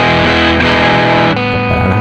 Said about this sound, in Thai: คราวนี้มาเปิดพักเสียงแตกนะครับผมผมจะทำเป็นดิสโทชันก่อนแล้วกันนะครับผม